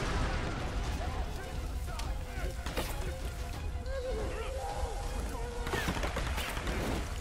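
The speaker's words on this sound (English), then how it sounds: "You guys really have time to shoot at me?" Rapid bursts of gunfire crackle in Tomb Raider (2013), scattered shots and short volleys over a constant rumbling background with occasional splashy noise, moderately loud throughout.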